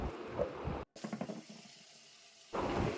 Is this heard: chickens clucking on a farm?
no